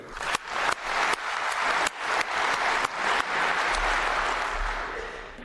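A room full of people applauding, a dense steady wash of clapping with a few sharper bursts, loud and continuous throughout.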